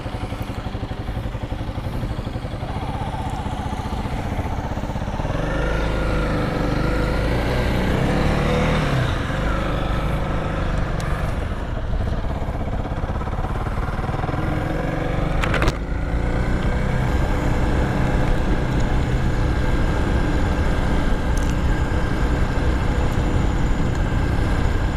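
A Honda CRF 300L motorcycle being ridden on a road trip in New South Wales, with steady, loud engine drone and wind rumble throughout, a few shifts in engine pitch as it accelerates, and no talking.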